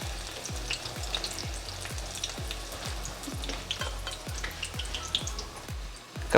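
Okoy vegetable fritters frying in hot oil, a steady close sizzle with crackling bursts and a repeated rhythmic tapping of a utensil, with no talking.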